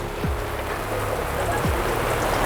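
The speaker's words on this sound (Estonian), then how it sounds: "Nüüd ma ei tea, nüüd sajab mingi 3 päeva ja me ootame siin." Steady rain falls in a dense, even hiss at a drag race event, with no talking and no pauses across the short stretch.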